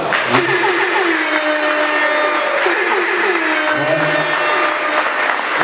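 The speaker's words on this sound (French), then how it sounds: "Est-ce que les hommes peuvent applaudir?" Men in a gathered audience clap together, a dense steady patter that carries on for several seconds alongside a voice talking over it.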